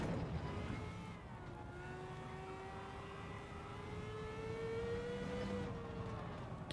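A race car from the Gran Turismo 7 video game drives on a circuit with its engine droning steadily and its pitch slowly rising and falling as tyres are pushed hard, at a moderate level throughout.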